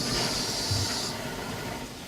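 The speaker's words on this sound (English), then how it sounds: "So we'll turn the stove on." A plain gas stove burner lit under a pot of water gives a steady broadband hiss at close range, a brief low thump near the start, then a softer continuous rushing as the flame settles.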